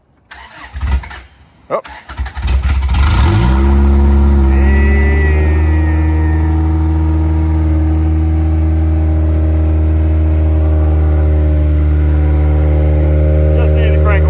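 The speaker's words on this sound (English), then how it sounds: "Just need to crank a little longer." A car engine cranks with uneven bursts for a few seconds, then catches and settles into a loud, steady idle that holds to the end. A brief exclamation is heard early on.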